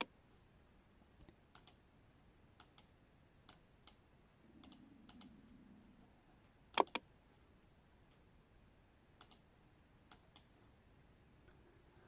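Sharp computer mouse clicks, a few single and double, spaced irregularly across a quiet stretch while options on a form are checked off, with one louder pair near the middle.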